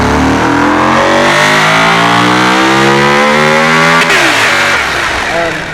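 A loud modern supercar engine in a video game revs hard, its rising harmonics climbing through the gears with a brief shift break, close and continuous.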